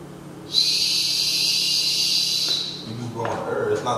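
A sustained, breathy high whistle tone rings for about two seconds, thin and airy, then fades into a short bit of voice and breathing.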